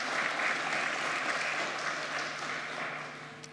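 An audience claps steadily through a capital market anniversary ceremony in Indonesia, a broad, sustained wash of applause that fades slightly toward the end.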